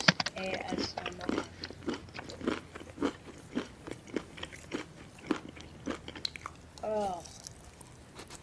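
Close, crunchy bites and chewing of marshmallow chocolate candy, an ASMR eating sound heard as repeated sharp crunches at a steady pace, with a voice briefly talking over it and a short exclamation near the end.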